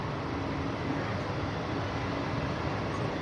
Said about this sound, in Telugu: చూడండి లోకల్ ట్రైన్ లోపల ఎలా ఉంటుందో